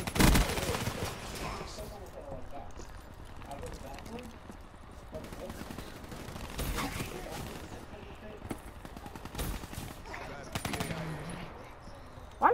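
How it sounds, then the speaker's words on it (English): Rapid machine-gun bursts and scattered gunshots rattle in Call of Duty: Black Ops III, coming in uneven waves with a player talking over the firing. "Why do they always gotta shoot me when I'm about to die?"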